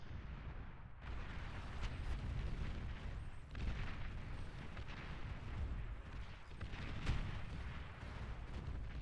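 Mobile artillery units called Wolverines fire in the real-time strategy game Beyond All Reason, a continuous rumbling barrage of distant booms and blasts layered over dense battle noise, without voices.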